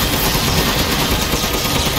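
Gunfire from the video game Resident Evil Village crackles as a loud, dense burst of rapid shots that fills the whole stretch without pause.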